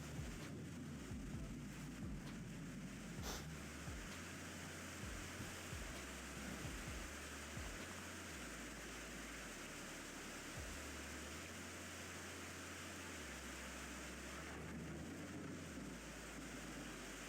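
Steady broadband roar of torrential rain and wind sweeping across an open golf course at Ferry Point, continuous and fairly loud throughout with low gusty rumbles underneath and no talking.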